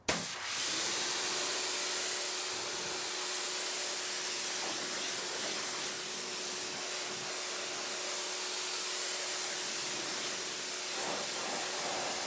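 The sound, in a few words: spraying tire and wheel cleaner onto tire and rim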